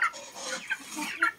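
Growing chicks and a hen cluck and peep nearby during feeding, short bright calls popping up several times in quick, uneven succession.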